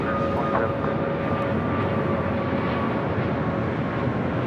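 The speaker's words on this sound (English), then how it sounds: "Next departure is Southwest Airlines flight 461, a 737 MAX 8." A Southwest Airlines Boeing 737 MAX 8 departs at LAX, a steady broadband jet roar with a faint whine, heard at a distance and continuous.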